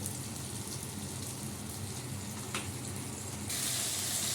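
Pumpkin, eggplant and jackfruit seeds with salt cooking as a curry in a pan give off a steady, close hiss of sizzling that brightens and grows louder near the end.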